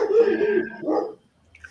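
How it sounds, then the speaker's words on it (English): A dog gives a short, close, whining bark-like yelp, then a second shorter one, before falling quiet. "Dan's dog agrees with you, Bear."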